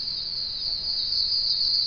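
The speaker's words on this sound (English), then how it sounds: "I can hear them damn frogs." Frogs calling after rain, a steady high-pitched trill running without a break, continuous and moderately loud outdoors with no voices.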